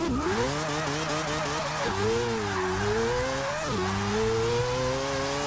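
A 2014 Nissan Juke Nismo RS in Forza 6 launches at about 5,000 rpm with its front-drive wheels spinning, giving a loud, steady engine drone whose pitch climbs through two upshifts, with a constant tire-scrub hiss underneath.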